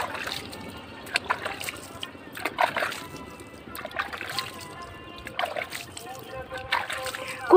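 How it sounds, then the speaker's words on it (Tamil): Water is poured onto a freshly sown rooftop garden bed planted with coriander and chilli seeds, giving soft splashing and trickling in several short bursts over steady background noise, with speech alongside. "இப்போ தண்ணி ஊற்றிக்கலாம்."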